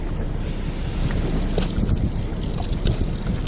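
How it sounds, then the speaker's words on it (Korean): Wind buffets a microphone aboard a small fishing boat out on the water while squid fishing, a steady loud rushing roar with low rumbling gusts and faint splashes, no speech. "바람 시원하게 분다"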